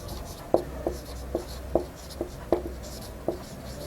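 Chalk or marker taps and strokes on a board during a math lesson, a series of short, light, irregular knocks at close range over a faint hum of the room, with no talk heard.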